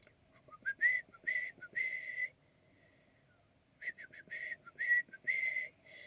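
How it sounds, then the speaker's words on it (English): A person whistles a melody in short tonal phrases, pausing midway before continuing; clear and close, with faint background noise. "I'm trying to whistle that tune."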